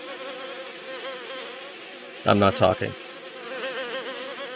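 Bees buzzing steadily at a hive in the video game DayZ, a constant droning swarm hum throughout, briefly overlaid by a short spoken phrase midway.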